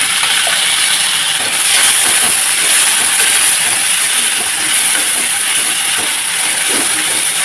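Onion frying in hot oil with cumin and turmeric makes a loud, dense, continuous hiss that holds steady without pauses and without any voices.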